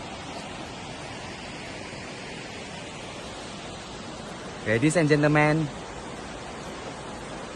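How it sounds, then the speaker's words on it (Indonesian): Tumpak Sewu waterfall roaring, a constant, loud, broadband rush of falling water that fills the whole scene, with someone briefly speaking over it partway through. "aku persembahkan air terjun Tumpak Sewu"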